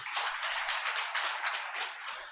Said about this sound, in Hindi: उनके लिए फिर से आप ताली बजा दीजिए